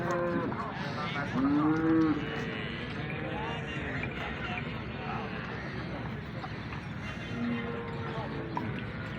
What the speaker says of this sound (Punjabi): ਇਹ ਗਾਂ ਹੈ, ਦੋ ਨਾਲ ਮੱਝੀ।